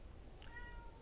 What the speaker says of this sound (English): You can meow. Meow, meow, meow.